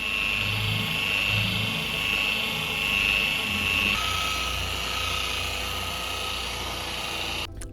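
A machine polisher works compound into the clear coat of a Porsche 944 during restoration, a steady close whine and hum that runs throughout with slight shifts in pitch, then cuts off at the end.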